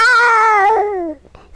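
A voice imitates two cats fighting, letting out a single loud, drawn-out yowling caterwaul that slides downward and cuts off, close and alone.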